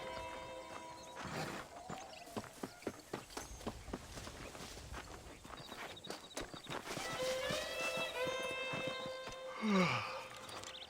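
Horse hooves clip-clopping in Red Dead Redemption, a steady run of near footfalls across most of the stretch, giving way to a brief whinny and tonal calls near the end.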